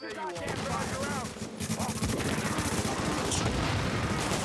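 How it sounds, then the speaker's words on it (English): A grenade launcher fires repeatedly in a first-person shooter game, with dense booming blasts and crackling gunfire building steadily, and a voice speaking briefly at the start. "that grenade launcher is annoying"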